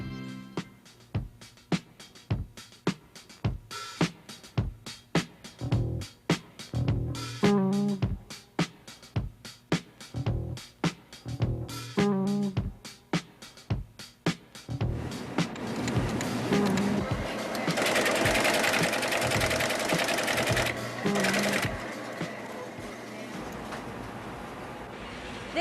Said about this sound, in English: This computer center is operated by a college, and it's a little noisy